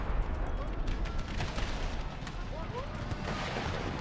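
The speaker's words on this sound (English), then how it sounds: "now it's just a battle of artillery" Artillery fire in an Empire: Total War battle, a dense, continuous rumble of distant cannon booms and crackling shots layered together with no pauses.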